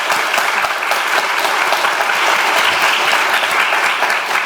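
An audience gives warm applause to welcome a medical school professor at a Korean lecture, dense, loud clapping sustained throughout with no talking over it.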